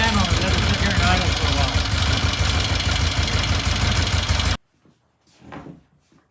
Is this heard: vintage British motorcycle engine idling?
yes